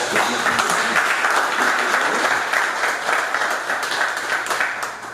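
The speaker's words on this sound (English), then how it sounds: "So give me a round of applause." Studio audience applause during a broadcast show, a dense steady round of clapping held for several seconds and slowly tapering, with no talking over it.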